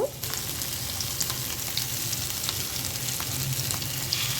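Hilsa fish pieces fry in mustard oil in a pan, giving a steady, close hiss and sizzle that holds evenly throughout with faint crackles and no talk.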